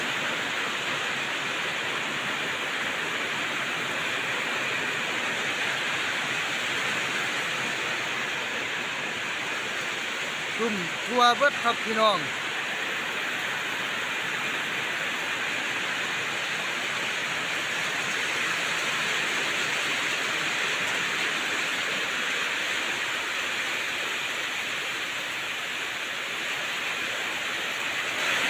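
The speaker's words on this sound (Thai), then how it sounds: "ฝนตกหนักมากครับ" Heavy rain pours steadily at Ban Pong Nok Kaeo, a constant dense hiss that runs unbroken throughout, with a voice speaking briefly partway through.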